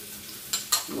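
Vegetables with diced cucumber and garlic being stirred in a pan for a honey shrimp stir fry, a soft steady sizzle broken by two sharp scraping strokes near the end.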